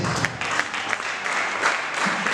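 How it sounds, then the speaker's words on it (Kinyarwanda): Applause from an audience at a church gathering with a preacher, as dense, continuous clapping that holds steady through a couple of seconds, fairly loud and close, with no voices over it. "Komera amashyi"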